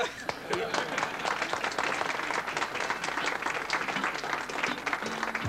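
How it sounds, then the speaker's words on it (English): Audience applause at a ceremony in a German shipyard for the ocean liner SS Norway, a dense continuous wash of many hands clapping with crowd noise and some talk mixed in. "The applause for the men who have turned old France into new Norway has faded away."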